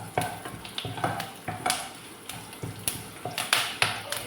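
Curry leaves fry in ghee in a pan with a steady crackling sizzle, punctuated by regular scraping and clinking strokes of a spoon stirring, close and moderately loud.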